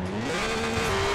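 A BMW Z4 with a six-cylinder engine revs hard while drifting in Forza Horizon 4, a loud sustained engine tone with a rising pitch and no talking.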